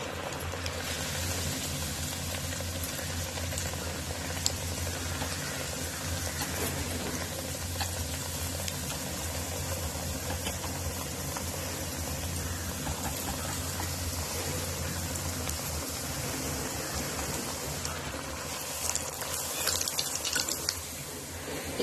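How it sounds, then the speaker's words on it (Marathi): Kombdi vada dough frying in hot oil, a continuous, close hiss and bubbling that stays even and steady throughout, with a brief rise in crackle near the end and no talking. "तेल तापून झालेले त्याच्यात आपण हा वडा फोडणार आहोत"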